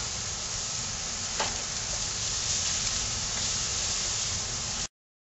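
Beef short ribs on a grill give off a steady, loud sizzle and hiss as they are flipped, with a brief scrape partway through, then the sound cuts off abruptly.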